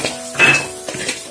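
A spoon stirs mango pickle mixture with chili powder in a bowl, giving a few short clinks and soft scrapes close by.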